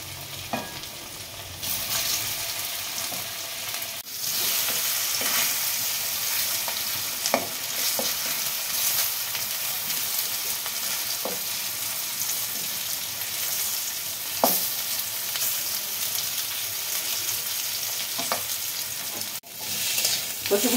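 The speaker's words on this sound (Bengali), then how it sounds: "এবার কচুগুলোকে আমি ভেজে নেব।" Pieces of taro coated in cornflour sizzle steadily in hot oil with a little turmeric, a continuous bright frying hiss broken by occasional stirring scrapes and clicks.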